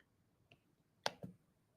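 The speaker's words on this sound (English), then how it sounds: "I'm typing it in here." A few sparse, quiet clicks sound at a keyboard as a short entry is typed, with one sharper pair of taps near the middle against a near-silent room.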